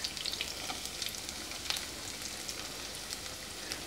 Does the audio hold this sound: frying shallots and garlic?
yes